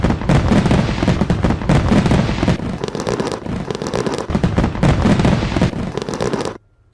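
Dense, rapid fireworks crackle and pop continuously for several seconds around New Year's celebrations in West Texas, loud and close, before cutting off abruptly near the end.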